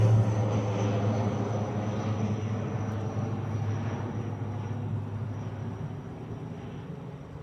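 An ATR turboprop departs from Dublin Airport, heard as a faint, steady engine drone with a low hum that eases off gradually, distant and without speech.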